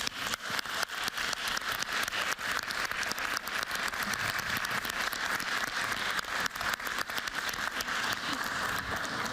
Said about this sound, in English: Let's give a big round of applause to our panelists.